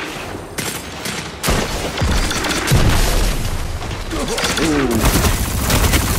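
Hand cannon gunfire in the Destiny 2 video game during an Iron Banner match, repeated sharp heavy shots and booms amid dense game noise, with a brief exclaiming voice near the end.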